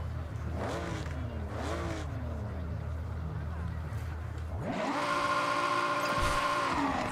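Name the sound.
car engine revving in Forza Horizon video game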